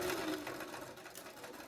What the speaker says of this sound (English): you'll just really sew off to the end here and knot it off